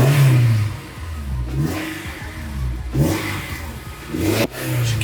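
Honda S2000 engine revving loudly in repeated bursts, each rising and falling, with rough idle-like dips between blips of the throttle; no talking.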